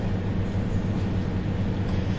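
A Pacer diesel train pulls away from Blackpool South in a train simulator, with a steady, low rumbling engine and rolling drone and no talk.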